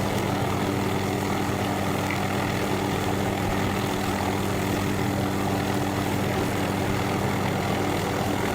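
A gyrocopter's engine and propeller drone loudly and continuously in flight, a dense steady roar with no talking and no change in pitch.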